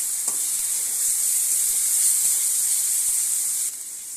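Onion paste fries in a pan with a constant, bright, close sizzle that holds steady throughout and softens slightly near the end, with a faint utensil tap early on.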